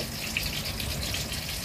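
Water being poured into a grinder jar with ginger, three or four garlic cloves, a quarter onion and four chillies to make a spicy paste, a steady close gushing splash lasting throughout with no talk.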